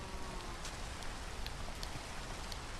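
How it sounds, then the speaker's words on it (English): Steady rain falls in the Minecraft video game, a constant soft hiss of droplets with faint scattered patter, heard alone at low volume. "It's raining."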